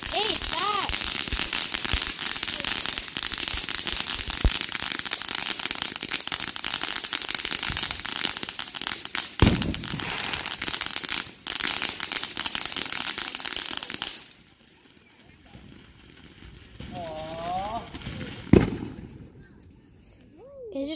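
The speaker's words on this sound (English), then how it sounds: "Is there some fireworks going off over there?" Fireworks go off in the distance on the Fourth of July, a dense run of crackling pops and bangs that thins to a few isolated bursts, with people talking over it.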